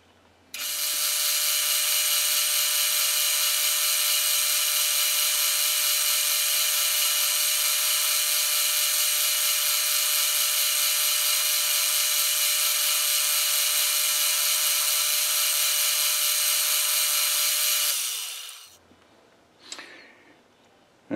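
Steady, loud machine whine from a metal lathe cutting a 60-degree taper on drill rod, holding constant for about seventeen seconds before spinning down, with a couple of faint clicks and handling sounds afterward.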